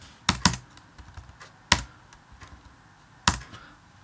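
Keystrokes on a Mac keyboard as a password is entered, a few sharp clicks in uneven bursts, close and fairly quiet, with no talking.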